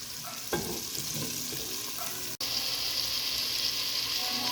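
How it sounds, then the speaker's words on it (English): Onions sweat in a pot for cannellini bean soup, giving off a continuous soft frying sizzle with a few light stirring clinks and one brief dropout midway. "Now you're going to add the onions. You're going to sweat them real good, about 3 minutes."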